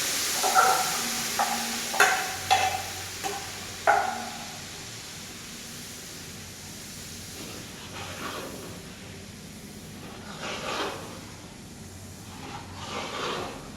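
Spice paste poured into hot oil and stirred with a utensil, a string of sharp scraping clatters up front followed by a steady, moderately loud sizzle that swells and fades.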